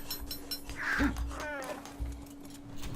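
A single bird call in the video game ARK: Survival Evolved, one short caw-like cry standing out briefly over quiet game ambience, with no talk.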